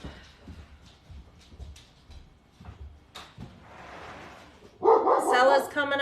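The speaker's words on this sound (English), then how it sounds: "Uh-oh, there goes the dog." A dog barks several times in a home during a live stream, loud and close, the sharp barks bursting in at the end after quieter room noise and soft background sounds.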